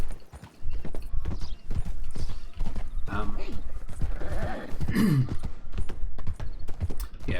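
Horse hooves clip-clop steadily in a Wild West video game, a continuous trotting rhythm close by, with a brief whinny and someone talking over it.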